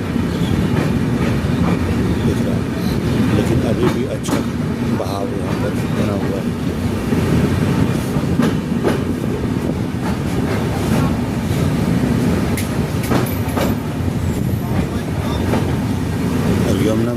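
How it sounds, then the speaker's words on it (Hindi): A passenger train from Prayagraj rolls slowly across a bridge over the flooded Yamuna, its steady rumble and rhythmic clickety-clack continuing loud and unbroken throughout. "ये ट्रेन प्रयागराज से आ रही है जो कि नई दिल्ली रेलवे स्टेशन की ओर पहुंचेगी।"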